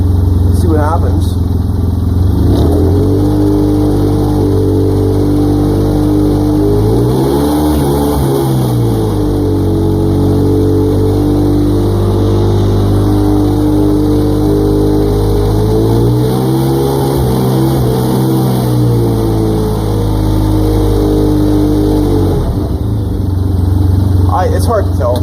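A Starknight MT vehicle driving in four-wheel drive, the engine droning loud and close from inside the cab, rising and falling in pitch twice as it accelerates, with a continuous road rumble.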